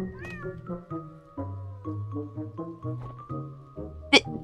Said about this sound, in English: Oh! There's a cat in the tree!